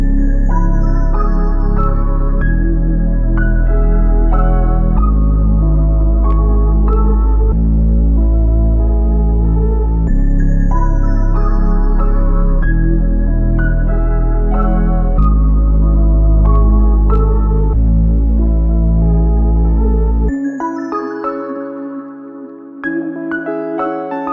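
A dark, emotional melody plays with all melodic elements rendered and slowed by a halftime effect, with no sub bass. Sustained low tones shift in steady blocks over about twenty seconds, then thin out near the end.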